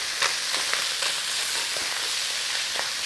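Garlic and ginger stir-fried in a hot pan, a steady soft sizzle with faint scraping stirs and light ticks throughout.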